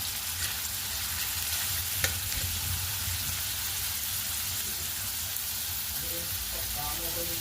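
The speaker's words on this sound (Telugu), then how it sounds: "లో ఫ్లేమ్లో మనము ఉల్లిపాయలు 2-3 మినిట్స్ పాటు వేయించుకోవాలి" Sliced onions fry in a pan over a low flame for bhendi fry, giving an even, continuous close sizzle with a brief clink midway and faint background tones near the end.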